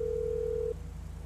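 Telephone dial tone in a GTA game, a steady electronic tone held for under a second before cutting off, leaving low game background hum.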